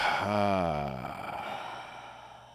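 A long, voiced exhale during a Taoist breathing exercise, a single close sigh-like breath that swells and then tails off into quiet.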